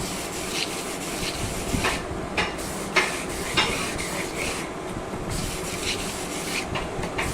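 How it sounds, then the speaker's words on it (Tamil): A metal blade is rubbed back and forth against a sharpening stone, switching sides between passes, giving steady close scraping strokes with brief sharp accents. "இந்த மாதிரி மாற்றி மாற்றி தீட்டணும்"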